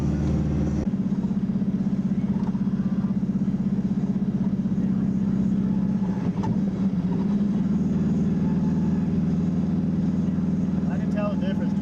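A Subaru non-EJ engine driving in gear, a steady mid-low drone humming evenly throughout, heard from inside the car with no talk over it.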